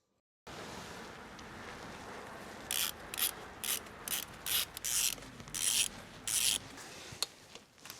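Small ratchet clicks while tightening a little screw on a Mini Cooper S R53 engine, a series of about eight short bursts of fast clicking close by over faint background noise.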